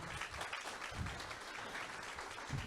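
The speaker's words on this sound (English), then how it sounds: "I think everybody give a big round of applause to Jeff" Audience applause at a community meeting at a Lutheran retirement community, a soft, steady patter of many hands clapping, faint and somewhat distant, with no talking over it.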